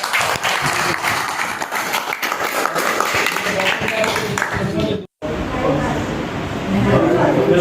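Loud, dense applause from an audience at a Dalit and minority organisation gathering, sustained for several seconds, breaking off briefly near the end before resuming, with talk in the background.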